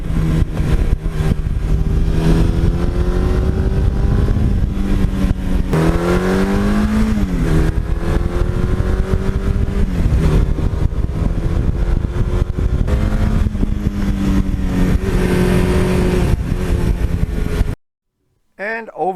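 A one-owner 1982 Suzuki GS1100E motorcycle engine runs close and loud with a sustained rumble and rising and falling revs, then cuts off sharply near the end.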